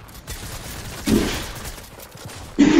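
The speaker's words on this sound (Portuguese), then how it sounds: "Houve um tiro, houve um tiro de shotgun que não contou, ou contou e não mostrou." Shotgun blasts in Fortnite: two loud, sharp shots about a second and a half apart over a low background of in-game noise.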